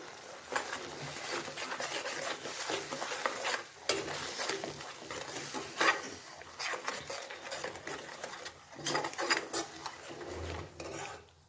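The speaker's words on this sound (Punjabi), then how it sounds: "ਗਰਮ ਮਸਾਲਾ ਹਲਦੀ ਪਾਊਡਰ ਨਮਕ ਇਸ ਨੂੰ ਚੰਗੀ ਤਰ੍ਹਾਂ ਮਿਕਸ ਕਰਾਂਗੇ" Garam masala, turmeric and salt are stirred in a pan with rhythmic scraping and gentle sizzling, close and continuous, with no talk.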